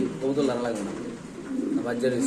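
Pigeons coo in low, throaty bursts among caged breeding birds, one already laying eggs, at a pigeon sale; people talk over the steady cooing throughout.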